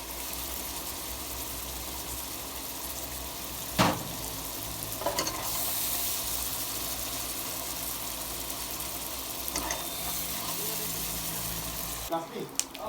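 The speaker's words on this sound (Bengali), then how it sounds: "মশলাটা দিয়ে দিলাম এখন এই যে মশলাটা কষানো" Spice paste fries in a pan with a continuous moderate sizzle, broken by a few sharp clinks of a stirring utensil, and a voice speaks faintly beneath it.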